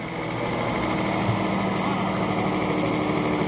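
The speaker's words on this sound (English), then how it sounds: "is evidently suffering from some major engine problems such as bad fuel and stuck injectors and clogged filters and whatnot" An old bus at a bus museum yard in La Puente, its engine running rough from bad fuel, stuck injectors and clogged filters, a steady, close mechanical drone with no break.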